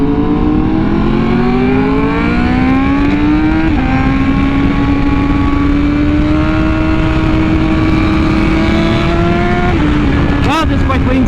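A Honda Fireblade RR-R SP motorcycle with an SC Project exhaust roars loudly and constantly as it accelerates up through quick-shifted gears, its rising engine pitch dropping briefly at each shift, with a rider talking under it.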